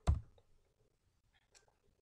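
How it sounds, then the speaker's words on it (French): Two key presses on a computer keyboard while working in surveying and road-design software: a sharp, close click at the start, then a second softer tap about one and a half seconds later, with near silence in between. "On tape 2 fois Enter."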